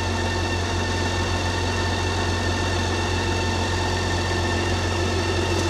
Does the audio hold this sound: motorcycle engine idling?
yes